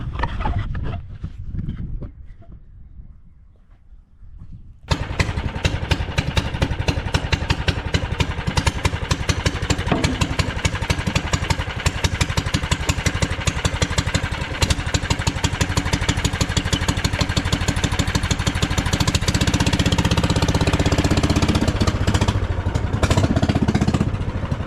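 The rigged-up swapped engine on a John Deere ATM 600 turns over and catches after a few quiet seconds, then runs steadily with a loud, rapid, clattering idle that continues for the rest of the clip.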